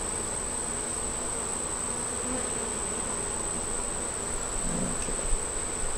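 Bees buzzing steadily around an open hive after a hot month, a continuous close droning hum with a few brief louder passes near the end.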